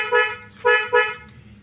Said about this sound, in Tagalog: Ito yung para sa busina.